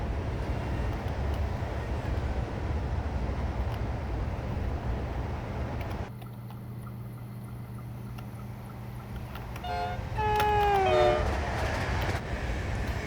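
An opposing train passes in Train Simulator 2020 on the Edinburgh to North Berwick line, a steady low rumble broken by a sudden shift as it goes by, followed by a brief sweeping horn-like tone.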